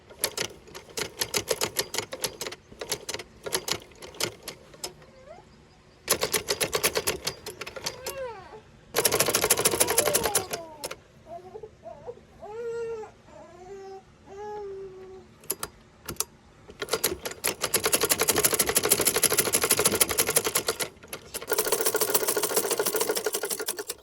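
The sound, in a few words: sewing machine stitching clothes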